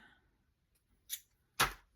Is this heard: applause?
no